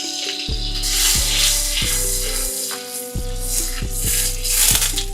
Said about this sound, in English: Over medium-high heat, I'm going to add 1 tablespoon of butter and 1 tablespoon of olive oil.